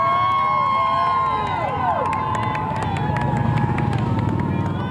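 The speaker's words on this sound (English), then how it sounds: "As it approached, the crowd began to cheer." A street crowd cheers and shouts as Mayor Tom Menino's funeral procession passes along Blue Hill Avenue in Mattapan, with mixed voices, whistling tones and rising clamour.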